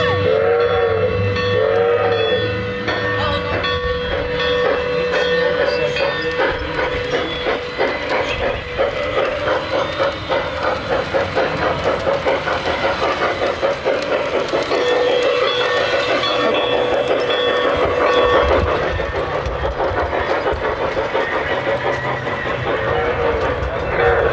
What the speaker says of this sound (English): This train that I'm running right now